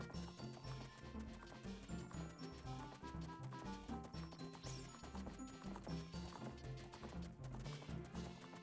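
A horse in a Zelda: Ocarina of Time randomizer game clip-clops with rhythmic hoofbeats under a busy, constant music track, with a brief whinny-like flourish partway through.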